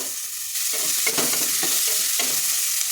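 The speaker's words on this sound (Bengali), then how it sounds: "এবার পেঁয়াজ কুচিটা দিয়ে দেবো।" Chopped onion hits hot oil and butter in a kadai, giving a loud, continuous sizzle close by, with a few stirring scrapes; no one speaks.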